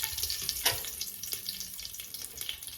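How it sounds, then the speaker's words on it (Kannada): Garam masala and whole spices fry in ghee for mushroom biryani, producing a faint, steady crackling sizzle with a few light clinks and stirring sounds. "ಇದು ಹಾಕ್ಕೊಂಡು ನಾರ್ಮಲ್ ಫ್ರೈ ಮಾಡ್ಕೋಬೇಕು"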